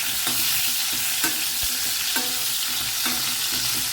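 Ambade (hog plums) with a pinch of asafoetida stirred in hot oil in a pan, a constant loud sizzle with periodic scraping strokes of the spoon, no voices.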